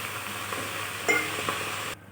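Drumstick leaves with green chillies and garlic sizzle and hiss in a wok as a little water goes in, a sharper burst of steam near the middle before the sound cuts off abruptly.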